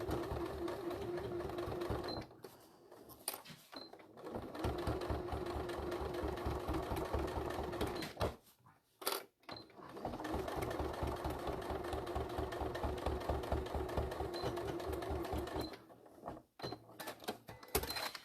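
A sewing machine stitching fabric runs in steady mechanical bursts, close and fairly quiet, pausing briefly a few times before starting up again, with no talking.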